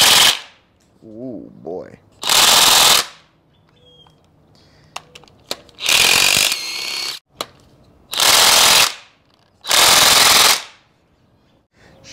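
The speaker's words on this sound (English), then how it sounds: "Let's see if the electric impact can do all 26 without needing a charge." Cordless electric impact wrench hammering engine mount bolts loose on an abandoned 1993 Cummins, four loud rattling bursts of about a second each with pauses between, plus smaller clicks and a brief exclamation.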